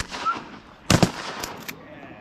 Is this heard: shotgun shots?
yes